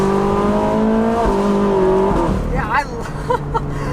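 A 2013 Ferrari 458 Spider engine roaring loudly while driving, a steady high-revving tone that sweeps up and down through gear changes, with a person talking over it.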